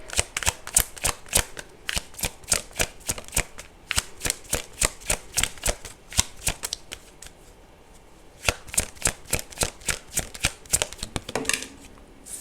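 Tarot cards shuffled repeatedly by hand in a close, crisp series of riffling bursts, pausing briefly midway before a second run of quick flutters, with no talking.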